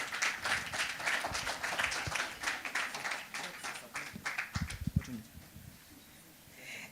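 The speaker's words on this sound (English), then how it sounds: "Please, a round of applause for her." Applause from a conference audience at an International Bar Association cross-border legal event in Lagos, a dense patter of clapping that fades out at the end as a speaker begins talking.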